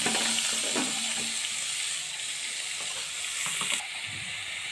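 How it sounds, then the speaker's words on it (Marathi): Grated ridge gourd drops into a pan of hot oil with garlic, green chili and turmeric, giving a steady close sizzle and hiss, with occasional stirring scrapes and a faint voice underneath. "आता हे टाकून घेते खिस दोडक्याचा"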